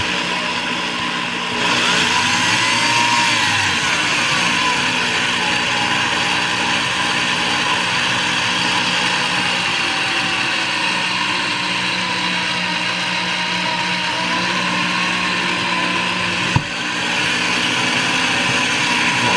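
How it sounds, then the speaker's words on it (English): An old drill press whines continuously at a high pitch for a long stretch while drilling holes for a leather sheath, with a short burst at the start and a brief click near the end. "Now this is the old drill that we had salvaged out of the garbage, the old drill press thing."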